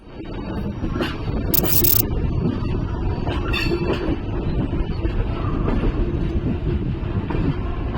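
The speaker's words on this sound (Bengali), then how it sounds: "অযোধ্যা ছেড়ে ট্রেন ছুটে চলেছে তার নিজের ছন্দে" A passenger train rolls steadily along the rails after leaving a station, with a loud continuous rumble and rattle, brief squeals and clacks, and no voices.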